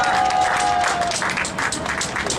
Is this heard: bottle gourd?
no